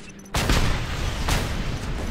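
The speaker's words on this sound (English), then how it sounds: "Explosions! I'm happy with explosions!" Grenade explosions in the video game Just Cause 2: a loud blast hits suddenly, followed by a rumbling roar and a second burst about a second later, with the noise sustained throughout.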